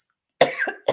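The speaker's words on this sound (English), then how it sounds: "I still have a cough" A single person's cough in a quiet room, a sharp burst followed by two shorter hacking coughs close up, lingering after a recent COVID illness.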